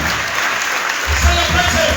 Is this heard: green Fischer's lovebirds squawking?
no